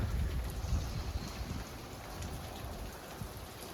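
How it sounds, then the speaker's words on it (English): Steady rain falls in the Rocky Mountains, a dense, even hiss of drops on surfaces with a low rumbling undertone, moderately loud and without voices. "but it is raining"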